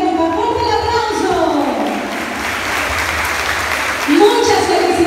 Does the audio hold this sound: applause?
yes